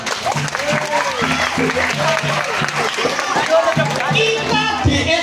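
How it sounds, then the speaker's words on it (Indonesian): A crowd of students at SMP 15 Denpasar, a school in Bali, claps in loud, dense, continuous applause while a voice talks over it near the microphone. "Tepuk."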